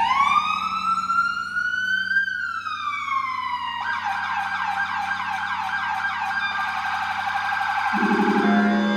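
Emergency vehicle siren wailing up and down, then switching to a rapid yelp pattern, moderately loud and steady, with no voices.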